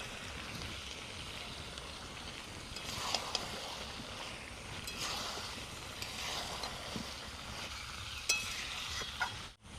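Fried potato and papaya pieces are stirred into duck curry bubbling in its released oil, giving a steady close sizzle broken by scraping and clinks of the spoon against the pan.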